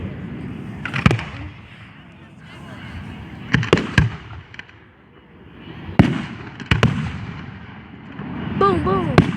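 Fourth of July fireworks go off outdoors in a string of sharp, loud bangs and crackles, spaced irregularly with bursts clustered in pairs, over a low rumbling background, with people chattering between blasts.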